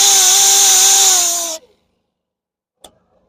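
A grinder sands curb rash off a Porsche wheel with a loud, high whine that cuts off abruptly after about a second and a half, followed by silence and one brief light clack.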